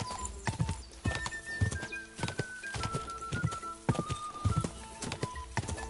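Horse hooves clip-clop at a gallop in Kingdom Come: Deliverance II, a steady rhythmic pounding close by, with a brief whinny and faint birds over game music.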